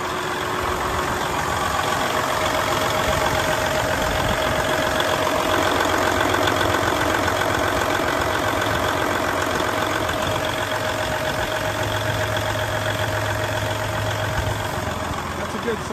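A diesel engine in a 2016 Freightliner Cascadia 125 truck idles steadily and loudly for the whole stretch, a constant rumbling drone with a faint knock.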